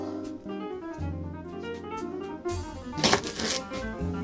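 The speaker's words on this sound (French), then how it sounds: "Je coupe assez grossièrement." A knife roughly chopping leeks on a board for a leek tart, a few quick taps and cuts ending in a short louder flurry of chopping, close by over soft background music.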